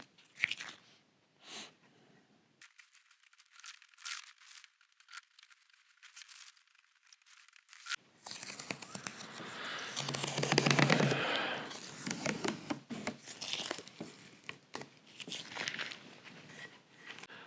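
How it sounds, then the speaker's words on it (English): Tape peeled off the neck of a Telecaster guitar during fret work, crackling and crinkling in quiet bursts that build into a louder, continuous ripping and tearing stretch, close up, no voices. "And then I can start peeling all this tape off."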